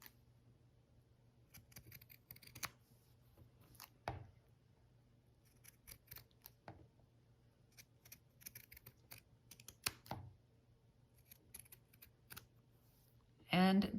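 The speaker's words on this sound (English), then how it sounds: "we're just gonna go all the way around our leaf with these pinking shears" Pinking shears cut around a wool felt leaf, close and quiet: a string of soft crisp snips and scrunches in irregular rhythm, with a louder rustle near the end.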